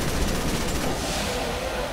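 Rapid gunfire from Resident Evil 6 rattles continuously as a dense, loud burst of shots and blasts with no pause.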